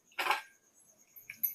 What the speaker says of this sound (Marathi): आता मी कुकरचं झाकण लावते